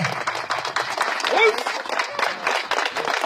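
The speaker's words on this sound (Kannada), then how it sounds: "ಜೋರಾದ ಚಪ್ಪಾಳೆ" Audience applause at a Kyokushin karate demonstration, a steady dense clatter of many hands lasting throughout, with a voice speaking over it.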